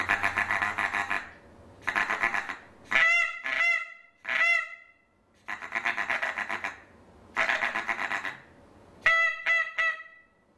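Wooden bird call imitating greylag goose calls, blown in repeated bursts: soft honking series alternating with sharper, clipped honks, loud and close with short pauses between.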